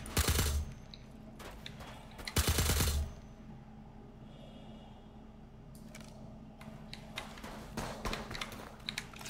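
Star Citizen gunfire crackles in two loud, dense automatic bursts early on, followed by scattered quieter shots and clatter over a steady low hum.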